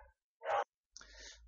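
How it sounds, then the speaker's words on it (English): A household dog lets out a single short, moderately loud bark from a nearby room, followed by quieter background noise. "let me just go sort that dog out"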